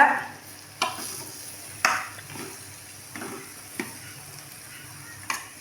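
Basmati rice stirred in a frying pan for onion rice, with a faint sizzle underneath and a handful of distinct scraping strokes of the spoon spaced a second or so apart, close and alone.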